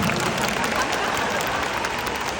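Dense, steady applause from a large concert audience at a show fills the whole stretch as an even, close wash of clapping, with no pauses.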